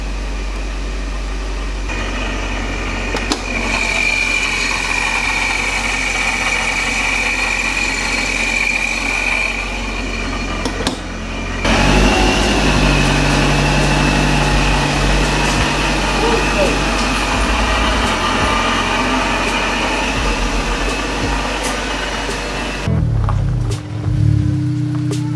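Honda S2000 engine idling steadily just after start-up, fitted with an anti-fuel-starve baffle plate, a continuous low hum close by that shifts slightly in pitch partway through and cuts off near the end.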